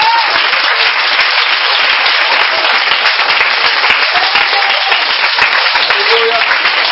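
A church congregation applauding and cheering for Jesus Christ, dense continuous clapping from a large crowd with voices mixed in, loud and sustained throughout.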